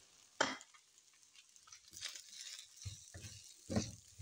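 Boiled, salted, shredded chicken stirred and fried in a pan before vegetables are mixed in, soft sizzling under sharp scraping strokes of a spoon against the pan, close and without talk.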